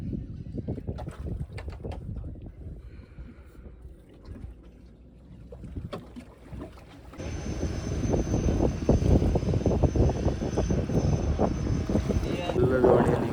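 A fishing boat with a 40 hp engine drones nearby, a steady motor rumble that grows louder in the second half, with a person talking over it.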